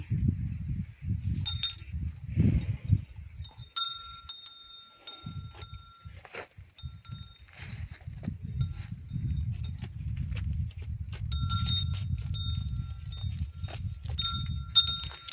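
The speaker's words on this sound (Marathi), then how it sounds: "ही बाय आमची गाय ते आता सुधरून माझ्याजवळ येत आहे" A cow shuffles and steps about close by, with heavy low thuds and soft hoof clops on the ground, plus a faint clink now and then.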